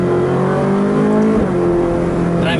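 Ferrari Speciale with a naturally aspirated engine, heard from inside the car. The engine holds a loud, steady, rising drone with a brief shift-like dip midway, and no one speaks.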